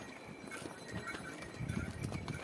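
Horse hooves clip-clop along the Amarnath Yatra pilgrimage trail, a steady uneven patter of several steps under a busy outdoor murmur, growing somewhat louder toward the end.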